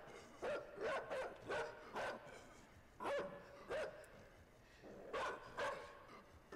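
A dog barks in short bursts, several spaced yips and barks of moderate loudness over about six seconds, with occasional whimpering tones and no clear talk.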